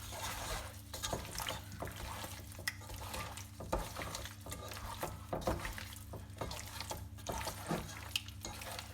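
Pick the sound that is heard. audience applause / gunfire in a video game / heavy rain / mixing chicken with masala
mixing chicken with masala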